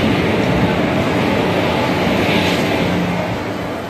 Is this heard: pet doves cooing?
no